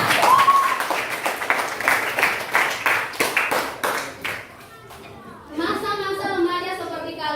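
Schoolchildren in a classroom clap in a quick, uneven burst of sharp handclaps for several seconds, then it fades and children's chatter rises.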